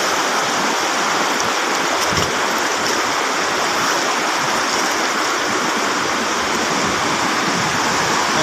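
Clear mountain stream water rushes over rocks, a steady, close, unbroken gush with no voices.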